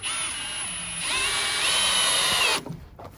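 A power drill drives screws into the metal frame of a Sportsmans Condo crossbow hunting blind tower stand, a steady whining motor run that rises in pitch midway, then cuts off abruptly near the end.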